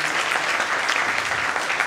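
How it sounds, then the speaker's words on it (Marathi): An audience at a cultural stage event claps loudly for a young dancer, thick continuous applause holding steady at close range without any talk. "तिच्या वयाला मला असं वाटतं जोरदार टाळ्या तिच्यासाठी व्हायला पाहिजे"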